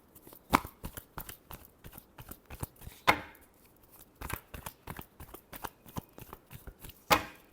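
Tarot cards are shuffled by hand in a series of soft, irregular riffling and slapping bursts, with a few sharper snaps, close and fairly quiet.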